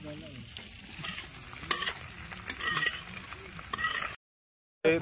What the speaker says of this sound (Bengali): পনির ভাজা মোটামুটি রেডি